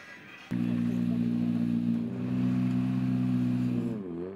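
A Ford Fiesta WRC rally car idles loud and close with a steady, deep exhaust rumble that holds for several seconds before the pitch shifts at the end.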